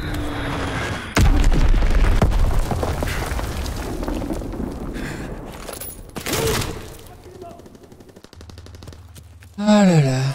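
Heavy wartime gunfire and a deep booming blast in Call of Duty WWII, with machine-gun rattle, a loud explosive thump and rumbling aftermath, intermittent bursts over background battle noise and some voice chatter.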